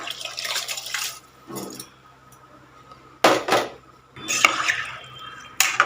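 Rice and water are added to a cooking pot for kootanchoru, heard as short bursts of clattering metal and pouring splashes separated by quiet gaps, close by.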